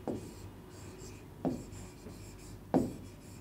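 Handwriting during a primary-school science lesson: three short, separate scratching strokes spaced about a second and a half apart, close and fairly crisp against a quiet room.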